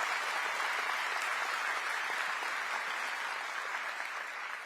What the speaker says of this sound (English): Give my family a round of applause